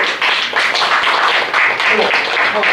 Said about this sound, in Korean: 우리 변경구 회장께 큰 박수로 우리 감사해